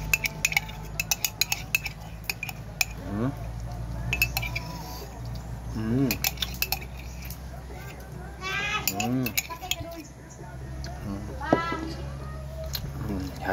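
Utensils clink and scrape against a bowl while ripe avocado is mixed with mango-flavoured ice cream, sharp metallic taps scattered throughout under frequent nearby talking.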